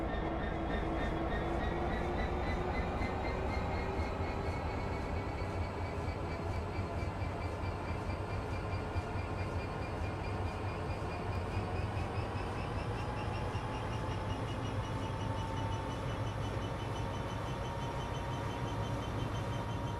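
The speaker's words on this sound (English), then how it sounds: "I managed to get the train moving all by myself, Geordie." A train moves along the tracks, hauling a heavy load. A continuous, loud rolling rumble with a droning engine tone that slowly rises in pitch as it gathers speed, steady throughout with no talking.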